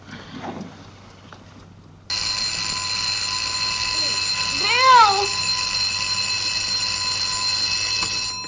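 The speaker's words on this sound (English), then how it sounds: "Might have turned off the alarm before he left." An alarm clock rings loudly and steadily in a bedroom in an old radio drama. The harsh bell starts abruptly after a quieter lead-in and keeps going without a break, with a brief warbling tone over it partway through.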